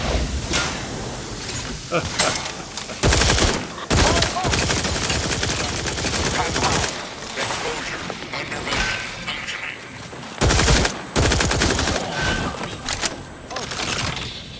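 Gunfire from a weapon in the video game The Outer Worlds 2, bursts of loud rapid shots between mechanical clanks and game sounds, with someone talking over the action.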